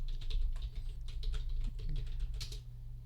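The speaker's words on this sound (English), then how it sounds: "Sorry if you hear me typing." Quick, uneven keystrokes clatter on a computer keyboard nearby, a steady patter of clicks over a low background hum.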